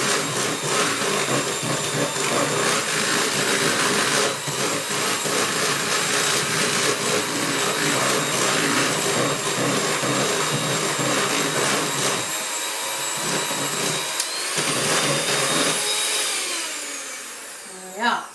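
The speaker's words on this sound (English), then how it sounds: "before the mixer goes on" An electric mixer creams butter and sugar for a cake, a loud, continuous motor whir with a rattling beater that holds steady for the full stretch before winding down near the end.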